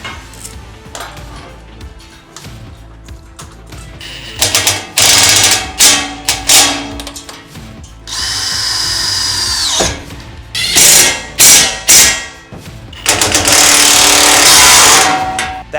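A ratchet tightening the floor bolts of a Holman tank rack inside a RAM ProMaster van, in loud clattering bursts of rapid clicking separated by pauses and metallic handling knocks, close up and without voices.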